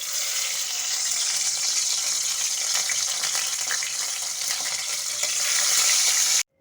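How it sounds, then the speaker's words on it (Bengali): Chapila fish marinated with salt and turmeric frying in mustard oil in a pan, a loud, steady, dense sizzle and crackle running unbroken close by, then stopping abruptly at the end. "এখন আমি মাছগুলো ভেজে নেব।"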